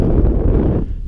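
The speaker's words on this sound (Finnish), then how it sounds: "Tuuli käy." Wind gusting across an open fell top at Pallastunturi, a loud, close, buffeting rumble hitting the microphone for about a second before easing off.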